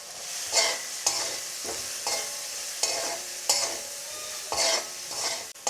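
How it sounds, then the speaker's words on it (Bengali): Onion and garlic fry with chili powder in a pan while being stirred, a steady sizzle broken by rhythmic scraping strokes about once a second, close and without talk. "এখন আমি এটা কিছুক্ষণ ভেজে নেব।"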